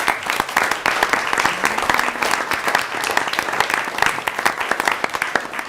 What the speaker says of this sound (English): one more round of applause to the parents of all the Science Olympiads.